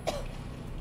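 A single short, rough cough from a poisoned character in the survival horror game Resident Evil 2 Remake, close and fairly quiet over a low ambient hum.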